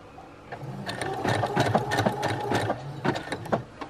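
A Brother sewing machine sewing a straight seam runs steadily up close, its needle knocking out a fast, even stream of mechanical beats with no voices.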